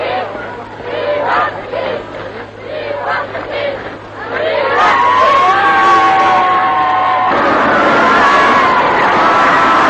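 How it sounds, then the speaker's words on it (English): A huge crowd outside Buckingham Palace on VE Day cheers and shouts in a dense, sustained roar that swells louder midway. A narrating voice speaks over the cheering at first. "Outside Buckingham Palace, the crowds cheered themselves hoarse."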